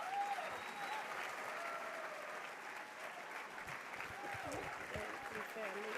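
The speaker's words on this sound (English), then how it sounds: "All right, now keep clapping for these incredible young people." An audience claps at the 56th annual Martin Luther King Jr. memorial breakfast, with steady, moderately distant applause running throughout and a faint voice or two rising over it near the end.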